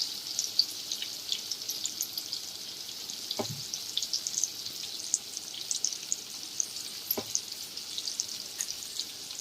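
Palm fruit fritters made with rice flour fry in hot oil, giving a steady, fairly quiet crackling sizzle, with a couple of soft knocks from the pan.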